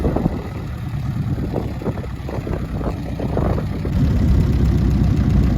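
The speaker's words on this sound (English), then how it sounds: "Giving her a bit of a tune-up over there. Hopping and wheezing and making some noise." An old Indianapolis-style midget race car engine idles roughly nearby, chugging and popping unevenly, then revving up slightly louder toward the end.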